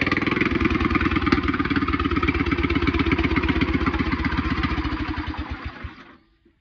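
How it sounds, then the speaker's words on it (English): A small engine on a homemade mud mower starts and runs loudly with a steady rapid chugging pulse, its carburetor needing a clean and set wide open, then cuts out and goes quiet near the end. "Got a motor that runs. Turn the switch on."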